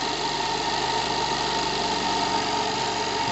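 A homemade live-steam speed engine runs steadily, making a fast even mechanical hum and chuff at moderate volume that barely changes over a few seconds.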